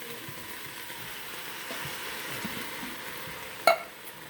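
Ingredients stirred in an Instant Pot, a soft continuous sizzle and scraping hiss up close, ending with a sharp clink of a utensil against the pot, no talk.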